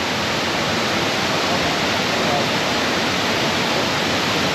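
Loud, steady roar of Annandale Falls in Grenada, a dense unbroken rush of crashing water close by, with no other sounds standing out.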